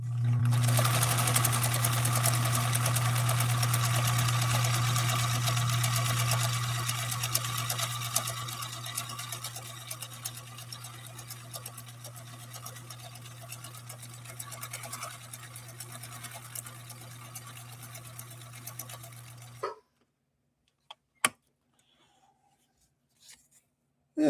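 A vintage sewing machine stitches velvet in one long, steady, continuous run with a strong motor hum. It fades somewhat before stopping abruptly, followed by a few faint clicks in near silence.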